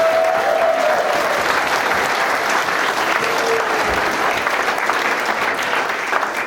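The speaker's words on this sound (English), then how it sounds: "A round of applause for them all." Wedding reception guests give a sustained, even round of applause for the hotel staff, steady dense clapping filling the room with a faint voice briefly audible.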